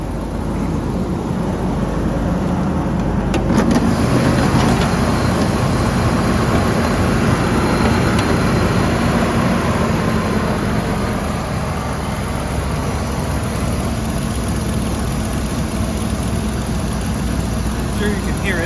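A Land Rover Discovery engine idles steadily and loud throughout, with a broad rumbling drone and an exhaust or vacuum leak, no speech over it.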